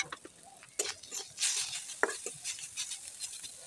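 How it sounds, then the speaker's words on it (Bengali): Ground spices, cumin paste, coriander powder, chaat masala and garam masala, being stirred together in a bowl for fish fingers: soft scraping and clinking of a utensil, close and fairly quiet, in irregular strokes. "এখন আমি আবার সবগুলো উপকরণকে ভালোভাবে করে নেড়েচেড়ে মিশিয়ে নিব।"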